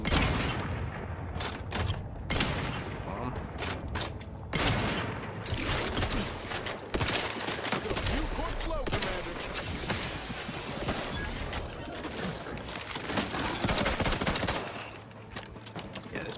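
A pistol fires in Outer Worlds 2 in a long run of rapid, loud gunshots that are almost continuous. The shots come in dense bursts with short gaps and keep going for about fifteen seconds, with no talking.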